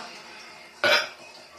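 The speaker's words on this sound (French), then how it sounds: "j'ai roté parce que j'ai mangé du chocolat" A single short burp after eating chocolate, sounding once near the middle, close and fairly loud against a quiet room with faint background hiss.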